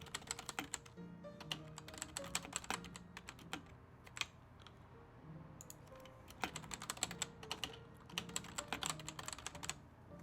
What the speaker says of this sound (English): Sorry if my typing is loud.